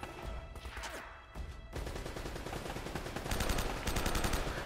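Enemy gunfire in Uncharted: Drake's Fortune, scattered single shots early on that build into fast, rattling automatic bursts growing louder toward the end.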